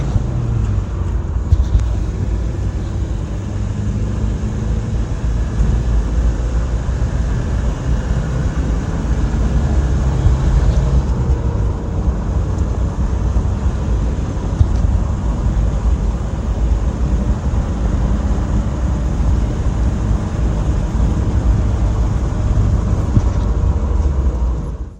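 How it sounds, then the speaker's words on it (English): A 1986 Suzuki Samurai JX on a test drive, heard as steady in-cabin road and engine rumble with broadband wind and tire noise, continuous and fairly loud throughout. "let's check out this Samurai on a test drive"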